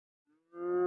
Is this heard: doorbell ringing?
no